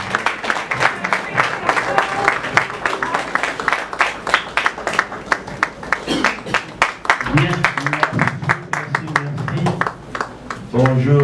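Wedding guests at a town hall in Pointe-Noire clap steadily and continuously, a dense crowd applause close by, with a voice speaking over it partway through.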